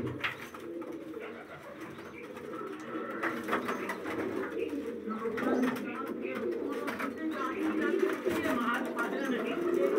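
Caged breeder pigeons of low-flyer breeds coo steadily nearby, a continuous layer of soft rolling calls, while someone talks over them.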